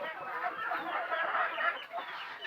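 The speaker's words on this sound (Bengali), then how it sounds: "দেখেন আল্লাহর রহমতে মুরগিগুলো খুব সুন্দর আছে।" Desi chickens cluck and chatter together on a poultry farm, a dense, moderately close flock of overlapping calls.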